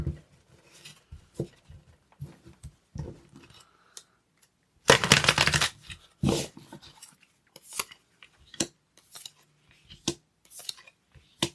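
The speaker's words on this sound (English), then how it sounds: "All right, one more shuffle for good luck." A deck of tarot oracle cards is shuffled in quiet, scattered taps and rustles, with one dense riffling burst near the middle and softer card handling before and after.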